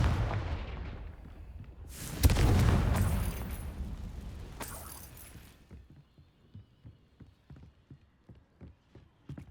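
Loud blasting-spell explosion from the Confringo curse in Hogwarts Legacy, a sharp burst with a long rumbling decay, followed by a steady run of soft rhythmic footsteps.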